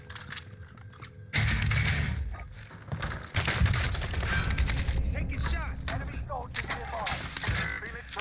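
Bursts of automatic gunfire in Call of Duty on Rebirth Island, loud rapid clattering volleys with mechanical handling clicks, mixed with game effects and a voice talking over the action.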